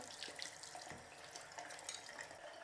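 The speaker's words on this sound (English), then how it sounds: "So I'll hit that up with a brush and some water." Running water from a rinsing spray nozzle hisses and splashes steadily throughout while cleaning an Earlex 6700 paint sprayer part with a brush, a continuous rinsing spray with no voices.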